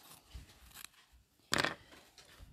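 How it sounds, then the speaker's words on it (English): Scissors cutting roughly through ironed-on collage material, a few faint snips and one louder crisp cut in a quiet room. "I'm going to just quickly cut that roughly"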